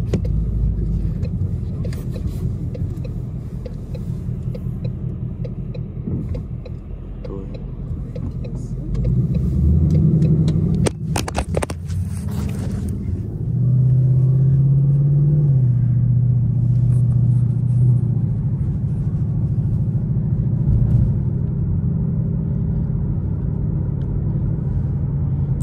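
A Ford Mustang GT V8 engine rumbles from inside the car while driving, a low steady drone that swells louder partway through, with brief clatter and voices in the cabin.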